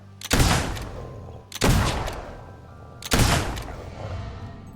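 Three loud, close gunshot blasts ring out in Fable 2, each a sharp crack followed by a decaying echo, spaced about a second and a half apart.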